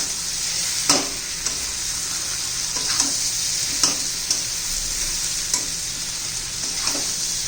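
Raw banana dry curry stirred in a pan, a steady sizzle broken by about seven spoon scrapes at a regular, unhurried rhythm, close and fairly loud with no voices.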